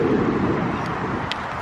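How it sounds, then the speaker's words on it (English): Strong wind at a football match buffets the microphone in a low, rushing roar that swells and eases over a couple of seconds. "this is how windy it is"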